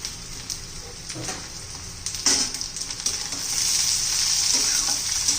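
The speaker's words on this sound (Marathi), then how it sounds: "ते पण आपल्या कांद्याबरोबर चांगले परतून घ्यायचे 2-1 मिनिट" Green chili, ginger, garlic and capsicum pieces sauté with onions in a pan for paneer masala, a close sizzling hiss broken by a few stirring scrapes and clinks that grows louder toward the end.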